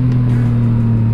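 A Yamaha MT-09 three-cylinder engine with a full Akrapovič exhaust drones loudly and steadily up close in a smooth, constant hum with no talking.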